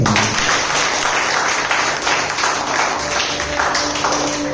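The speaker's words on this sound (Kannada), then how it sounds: "ಇನ್ನೊಂದು ಸಾರಿ ಕರ್ತನಿಗಾಗಿ ದೊಡ್ಡ ಚಪ್ಪಾಳೆಗಳನ್ನು" Worshippers at Berachah Church in Chellakere applaud loudly for the Lord during a fasting prayer service: a full, sustained wash of crowd clapping with a low instrumental hum underneath.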